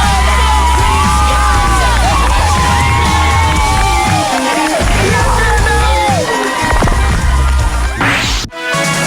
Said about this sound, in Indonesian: Ia pun turun dari panggung dengan tepuk tangan dan tertawaan siswa lain.